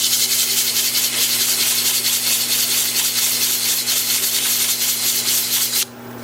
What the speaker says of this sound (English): I probably shouldn't even be sanding it